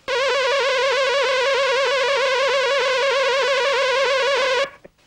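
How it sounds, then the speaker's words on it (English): A synthesizer note is modulated by a noise-type LFO, so its pitch jitters and wobbles irregularly around a steady center. The bright, buzzy tone plays alone for nearly five seconds, then cuts off with a brief click. "or what's labeled here as a noise wave."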